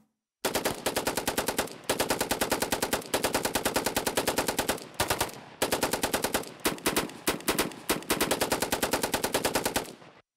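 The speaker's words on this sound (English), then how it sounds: "there actually is, like, a few different gunshot samples, and I layered them in following this exact kind of MIDI pattern" Several gunshot samples layered into a rapid machine-gun-like pattern for a metal track's vocal effect, heard soloed as loud, dense bursts of rattling shots in rhythmic phrases with short gaps, no talking.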